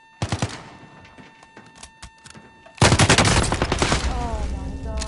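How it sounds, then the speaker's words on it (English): Gunfire in Call of Duty Modern Warfare Warzone: a few sharp isolated shots, then a sudden loud burst of rapid automatic fire that keeps hammering in quick succession, close and dominant. "I'm getting shot at."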